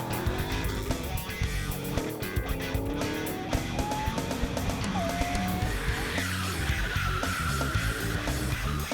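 Drift cars at Albi roar continuously as they climb through the gears, with tires screeching and skidding over loud, dense engine noise that never lets up.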